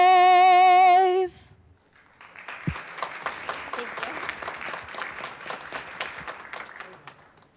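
Audience applause after the national anthem at a township board of supervisors meeting in Middletown Township, Bucks County. It follows the end of a sustained sung note and keeps up as steady, dense clapping for several seconds.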